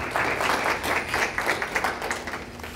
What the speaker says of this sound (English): we'd like to welcome Mike and give him a round of applause